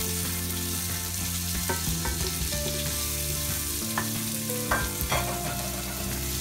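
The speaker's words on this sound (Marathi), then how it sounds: "मोहरी थोडी तडतडल्यानंतर आपण त्याच्यामध्ये हा 1 कांदा कट करून घेतलेला आहे तो टाकूया।" Chopped onion hitting hot oil tempered with mustard seeds and three bay leaves for prawn masala, a steady close sizzle with occasional stirring clinks and pops.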